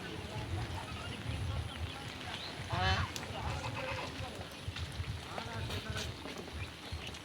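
Honking and quacking of ducks mixed with chickens being fed in a village, continuous and moderately close, with some human voice in the background.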